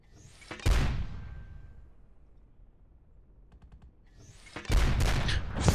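Two loud, heavy mortar blasts in Project Reality, a mortar team firing on the Nuijamaa map, each a booming report with a long rolling tail, separated by a quieter stretch with faint distant gunfire clatter.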